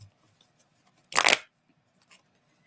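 Tarot cards being shuffled: one brief, crisp riffle burst, close and fairly loud, in an otherwise quiet room with a faint later rustle.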